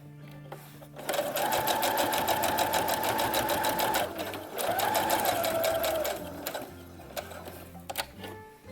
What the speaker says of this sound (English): We turn and do another reinforcing stitch. Again, it's a zigzag.